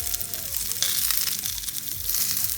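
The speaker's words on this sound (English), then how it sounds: "So we're going to keep on turning it really well on all sides." Zucchini and pepper vegetable kebabs sizzle loudly and steadily in a hot pan as they are turned, a dense close crackling hiss with faint shifting underneath and no speech.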